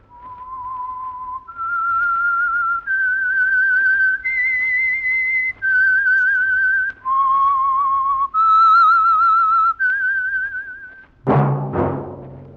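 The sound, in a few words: whistled theme signal of The Whistler radio program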